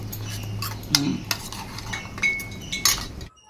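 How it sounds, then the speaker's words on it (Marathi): Cooked taro leaves are being mashed in a pan for a fasting-style buttermilk taro curry, heard as close scraping and stirring with a few sharp metallic clinks of the utensil against the pan, stopping abruptly at the end. "असं मॅश करून घेऊया अशी आपण घाटून घ्यायची भाजी"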